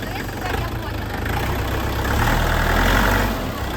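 A KENTAVR 404SD tractor's diesel engine runs steadily at idle close by, a continuous low rumble that swells slightly toward the end, with no talk over it.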